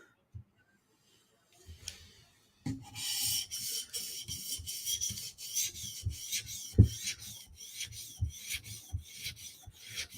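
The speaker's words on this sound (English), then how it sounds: "It makes a different noise when you sharpen and you're apexing the edge." A knife is drawn across a 400 grit whetstone in steady, repeated rasping strokes, a gritty scraping rhythm at close range that continues for several seconds with no talking.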